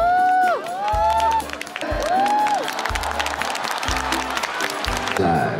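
Applause and cheering swell from the audience at an outdoor singing-contest final in Wuhan on a chilly evening, a dense, loud crowd din with clapping and shouts throughout, and a few rising vocal or whistle-like tones cutting through.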